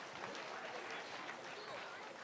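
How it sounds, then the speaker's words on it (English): An audience at a music academy concert claps after a team performance, a dense, even patter of applause heard from a distance at low level throughout. "Let's give them a very big round of applause."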